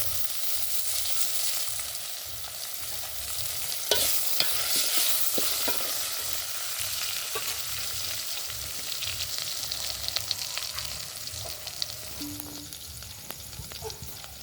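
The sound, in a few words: carrot, ginger and tomato sizzling as they are added to the khichdi tempering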